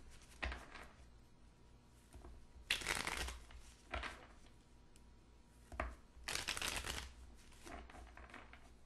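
Tarot cards being shuffled in several bursts of crisp riffling and slapping, close and fairly quiet, separated by short pauses.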